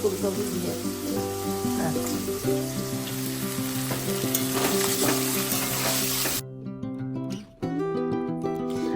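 Meat sizzles and fries in a pan in a home kitchen, with occasional stirring scrapes, a steady close hiss under tonal background sounds that cut out briefly near the end.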